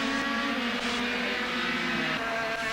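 Racing karts in a 1998 Super 1 Karting senior race roar past together in a dense, continuous engine drone that stays loud and steady throughout, with no talk.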